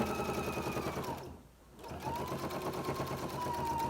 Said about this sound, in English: I'm going to start sewing down that side at a 1/4 inch